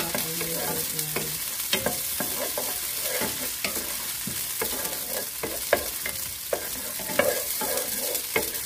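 Onion and red peppers sizzle in a pan as they are sautéed, with a steady frying hiss broken by frequent scraping and stirring clicks from a utensil, close up and with no talking.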